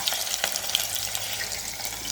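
Chopped red onions added to hot oil for vegetable fried rice, a soft frying crackle with small pops and stirring scrapes, close and moderately quiet.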